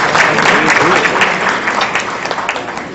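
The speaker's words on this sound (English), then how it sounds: "could we have a big round of applause for Sajjad Kareem" Strong audience applause at the Overseas Pakistan Trust opening ceremony, close, dense clapping sustained for a few seconds with faint voices mixed underneath.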